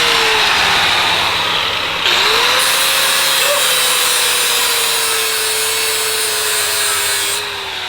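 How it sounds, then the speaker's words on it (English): A power tool grinds concrete with a loud, continuous whine and a rough, broadband rasp, dipping briefly near the two-second mark before holding steady close up, then easing slightly at the end. "You like to grind the concrete a lot."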